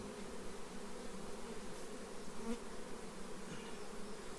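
Honeybees swarm over a brood frame lifted from a hive, making a steady, dense buzzing drone that stays close and even throughout, with no voices.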